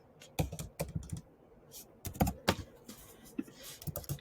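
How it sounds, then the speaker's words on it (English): Fast typing on a computer keyboard, quick irregular bursts of clicking keystrokes with short pauses between them, close and fairly quiet with no talking. "I'm just typing fast."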